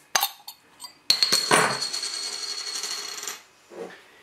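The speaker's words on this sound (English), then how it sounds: "Right, let's get this beer open. Just a black cap on there." A Loch Lomond Ale of Leven beer bottle with a black cap is opened up close: sharp metallic clicks and a cap pop, then a fizzing hiss of released gas that fades after a few seconds.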